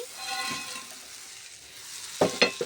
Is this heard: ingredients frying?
yes